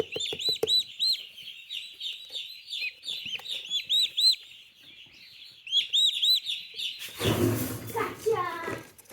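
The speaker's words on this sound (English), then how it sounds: "Chickens and turkeys." Meat-bird chicks of chickens and turkeys peep in rapid high bursts, clustered and then pausing, before a voice speaks over a brief rustle near the end.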